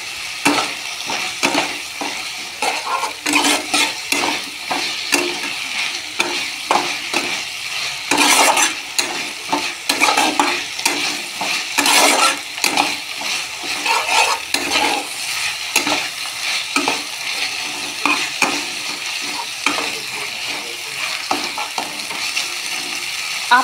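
Pumpkin greens and lentil fritter curry are stir-fried in a pan, with continuous rhythmic scraping and stirring strokes over a soft sizzle, loud and close throughout.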